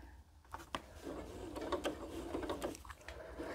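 A sewing machine stitches a quilt seam in a brief burst of quiet, rapid mechanical clatter, preceded by a few faint clicks.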